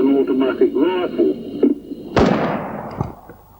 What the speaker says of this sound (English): sounds like an automatic rifle.